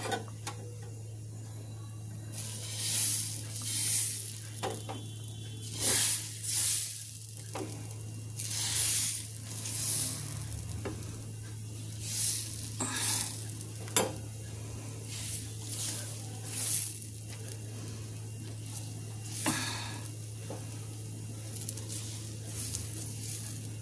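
A bread roll cooks on a hot tawa griddle, with soft sizzling bursts rising and fading every few seconds over a steady low hum.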